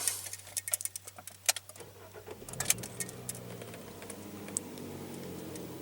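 A 2015 Jeep Renegade's 2.4-liter inline four-cylinder engine cranks and catches, settling into a steady low idle after some clicks and rattles from inside the cabin.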